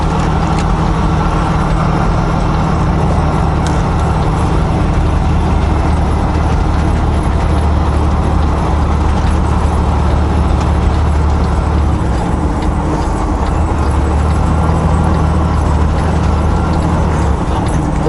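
A truck rolling with tire chains fitted, a dense continuous rattling clank over a low engine drone, steady and loud from inside the cab.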